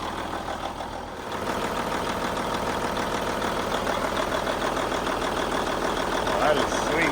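A mechanical Cummins N14 diesel in a Kenworth cabover truck idles with a steady, rough clattering drone, close and fairly loud, briefly dipping near the start, while people talk over it.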